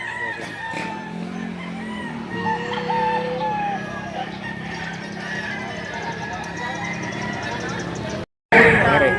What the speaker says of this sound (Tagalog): Ito ang eksena sa bintahan ng manok dito sa Padre Garcia, Batangas